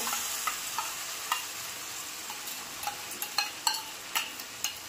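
Onion paste fries in a pan with about 700 grams of chicken, a steady close sizzle broken by irregular scraping stirs and soft clicks of a spoon against the pan, with no voices.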